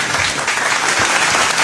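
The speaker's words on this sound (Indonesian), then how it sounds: "kasih tepuk tangan dulu buat Robiana lah" Loud, dense applause from a crowd, continuous and close, with no talking over it.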